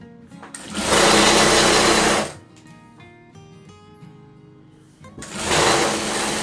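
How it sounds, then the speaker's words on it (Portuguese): A sewing machine stitches a double-sided placemat made from fabric scraps. It runs in two steady, loud bursts with a quieter pause between them, and the motor drone is close and constant while stitching. "Faço o retrocesso. E venho costurando."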